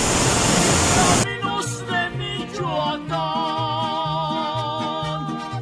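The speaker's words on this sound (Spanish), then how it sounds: "El rocío de la cascada nos moja los celulares y todo, pero es agradable." A Michoacán waterfall roars loud and steady for just over a second, a dense rushing wash, before music takes over for the rest.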